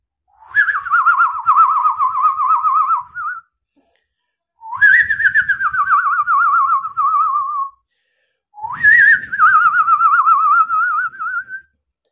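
A man whistles an imitation of the American redstart's song, giving three loud, clear phrases of about three seconds each. Each phrase rises sharply and then wavers downward, with short silent gaps between them.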